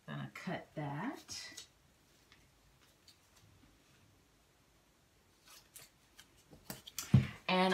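Scissors snip through painter's tape laid along the edge of valance fabric, a few short crisp cuts near the start and again near the end, close and clear, with a quiet pause between and a person talking.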